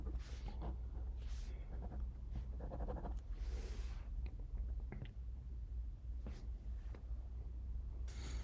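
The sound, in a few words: writing on paper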